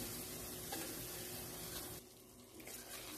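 Flour roasting in hot oil in a pan for a hazelnut mock chicken-breast milk pudding, giving a steady close sizzle with soft stirring scrapes and no voices.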